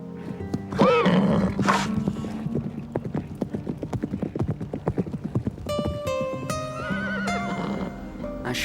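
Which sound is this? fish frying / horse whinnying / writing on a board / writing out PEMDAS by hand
horse whinnying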